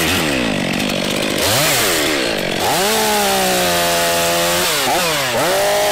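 A Stihl MS500i fuel-injected chainsaw runs loud and close, revving up and down repeatedly with sharp throttle swells and a steady high whine between bursts, no talking.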